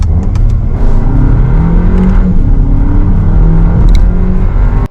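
A Volkswagen Tayron R-Line three-row SUV in sport mode revs hard through its paddle-shifted gears, a loud, close engine roar with rising pitch sweeps and no talk over it.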